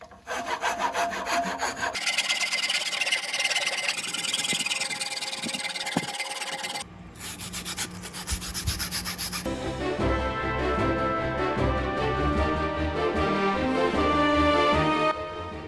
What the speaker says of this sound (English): get a file and then basically just keep removing material